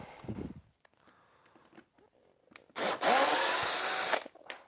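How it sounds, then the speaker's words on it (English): A power drill drives a screw into wood for a model Tie Fighter build, a loud sustained whir of about one and a half seconds rising after quieter handling noises, heard alone. "So I'm going to put a screw in there."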